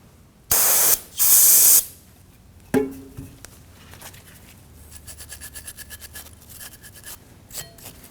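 Brake parts cleaner hisses from an aerosol can in two close, loud bursts onto the brake pads of a Subaru Baja caliper, followed by a clank and light scrubbing and handling noises.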